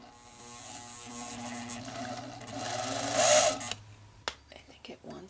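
A 1929 Singer sewing machine with a newly replaced belt runs with a buzzing motor hum that swells, peaks, then cuts off abruptly, followed by a few clicks and knocks.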